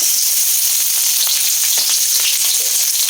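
Onion sizzling in hot oil in a pan, added after garlic for a chicken dish, a steady close frying hiss with faint crackles throughout.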